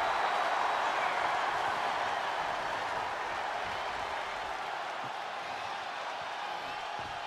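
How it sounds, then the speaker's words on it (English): A wrestling arena crowd roars in the WWE 2K23 video game, a dense, sustained wash of cheering and applause that holds steady throughout. "What a raucous crowd here tonight."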